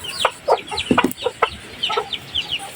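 Silkie chickens cluck in short, irregular bursts while being fed, close by and fairly clear, with quick soft calls overlapping across a few seconds.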